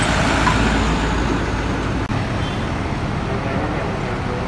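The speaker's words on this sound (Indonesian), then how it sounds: "Bus pariwisata konvoy bersama ANS." Tour buses rolling together in a convoy on a road, a steady loud engine and roadway rumble with continuous traffic noise and a brief dip partway through.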